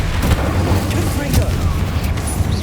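Confringo and Incendio spells are cast in the video game Hogwarts Legacy, producing a dense, continuous rumble of fiery blasts and booming impacts that stays loud and close throughout the short burst.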